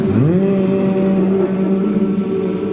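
An audience hums together in imitation of a time machine starting up, a rising droning sweep that settles into a steady, loud, buzzing tone held for a couple of seconds.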